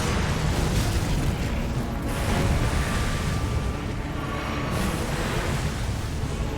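A boss attack in Elden Ring erupts in a sustained, roaring explosion, a dense, loud rumble that fills the whole stretch with no clear pause.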